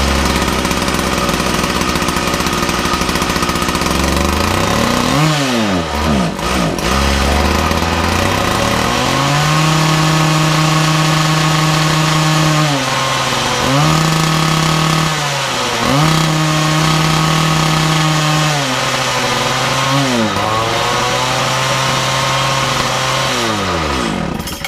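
A Makita DPC6430 petrol disc saw engine runs loud and close, idling roughly with several blips of revving and dips, under repair after carburetor adjustment.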